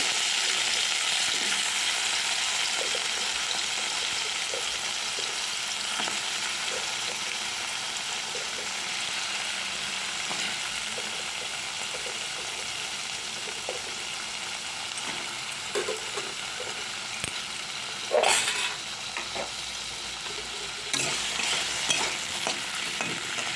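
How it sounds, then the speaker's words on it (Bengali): Potatoes and ridge gourd frying in oil for shukto, a steady close sizzle with occasional stirring scrapes and a brief louder clatter near the end, no talking. "এবার ওই তেলেই আলু ঝিঙেটা দিয়ে দেবো এবার আলুটা একটু ভেজে নিই"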